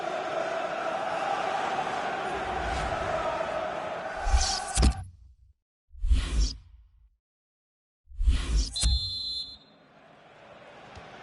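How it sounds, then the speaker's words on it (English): A referee's whistle starts the second half of an English League Cup quarter-final in FIFA 16: a brief, sharp whistle tone follows crowd noise, with abrupt bursts separated by moments of near silence. "There goes the whistle."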